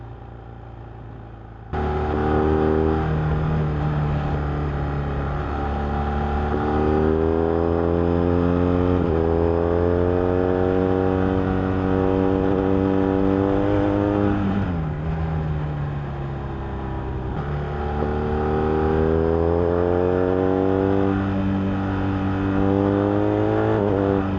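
A BMW R1250R motorcycle with an upgraded exhaust starts up loud and close. It then revs repeatedly, its boxer engine tone swelling and dropping in several throttle blips over a steady rumble.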